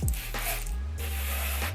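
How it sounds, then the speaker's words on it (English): Tinted lace spray is misted onto the lace of a wig in two soft hissing bursts, quiet and close, with a short pause between them. "I'm gonna go in and spray this lace down with this spray"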